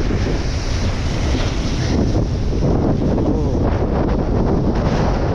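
Strong wind roars and buffets the microphone nonstop, mixed with the crash and wash of heavy surf on a stormy sea in Crimea, waves smashing the seafront.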